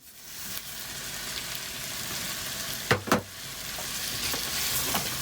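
Tomatoes and rice fry with vegetables in a pan aboard a narrowboat, a steady close sizzle with a pair of sharp utensil knocks midway and occasional light stirring scrapes, no talk.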